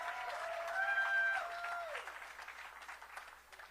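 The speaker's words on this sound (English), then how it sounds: "It's okay to clap again." Outdoor crowd applauding at a Hollywood Walk of Fame star ceremony, steady distant clapping that fades gradually, with a single sustained voice tone over it.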